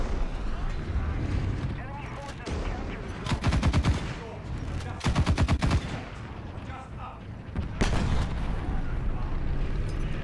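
Tank cannon and gunfire booms in the War Thunder Mobile battle game, with a Leopard tank firing, heavy bursts of rapid shots clustered in a few loud volleys over constant engine rumble, while someone talks in between.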